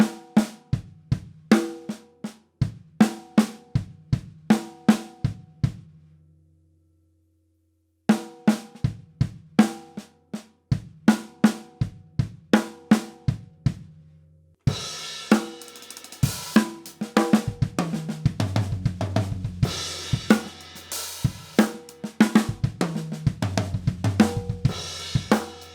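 Slow drum fill on a kit, sticks alternating between snare and toms in paradiddle sticking with kick drum strokes woven in, played as repeated phrases with a pause, then continuing over ringing cymbals and bass.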